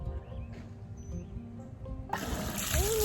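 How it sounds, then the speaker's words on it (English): Water gushes from a newly installed garden water supply, starting abruptly as a bright, loud rush after a quieter outdoor stretch with faint birdsong. "We have running water."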